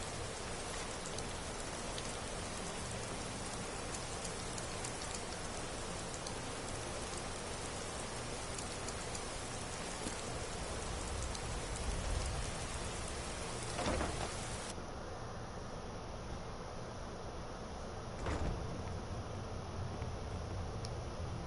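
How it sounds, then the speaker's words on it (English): Steady rain pours down in the Skyrim Special Edition video game world, a dense continuous hiss of falling drops that stays even and fairly loud throughout, with no talking. "It's still raining!"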